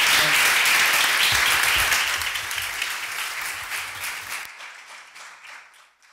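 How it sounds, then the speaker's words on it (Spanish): Audience applause for Seb Chan at a talk on museums and participatory culture, loud dense clapping that holds for about two seconds, then thins and fades out to silence. "Un aplauso para Seb Chan."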